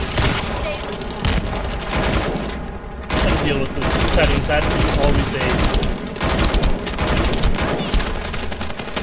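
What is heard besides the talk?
gunfire from The First Descendant video game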